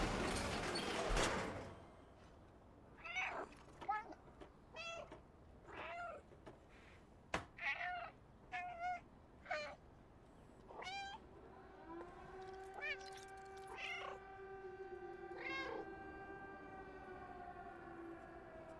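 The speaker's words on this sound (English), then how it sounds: "that is me meowing, by the way, you can meow during every cutscene of the game" A cat meows repeatedly in the video game Stray, a string of separate mid-loud mews with short gaps, over a quiet cutscene ambience with a sustained siren-like tone and a sharp burst at the start.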